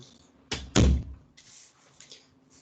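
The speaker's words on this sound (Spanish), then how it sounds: "Espérenme que le voy a abrir la puerta a mi gato." A door is opened to let a cat in, giving a sharp close thud followed by a heavier, louder knock or bump, then quieter scraping and rustling as it moves; no speech.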